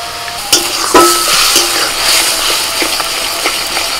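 Ginger and green chili paste mixed with cumin and Kashmiri chili powder slurry frying in a pan, a steady close sizzle broken by scraping stir strokes and a few sharp clinks of a spatula on metal.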